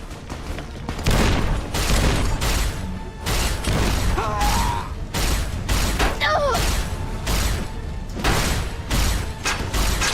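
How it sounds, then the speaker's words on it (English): Grenade explosions and combat in Fallout: New Vegas, a dense run of booming blasts and sharp impacts with clanking and brief whistling tones, loud and nearly continuous. "now he's just hucking grenades at me"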